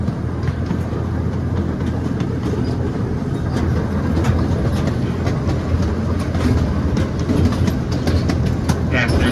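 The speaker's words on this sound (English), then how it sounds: "as we return to the train platform, I'm going to ask we remain seated until Engineer Bob has a chance" Miniature park ride train rolling along rails, a continuous rumbling run with rhythmic clickety-clack from the wheels, heard close and steady throughout.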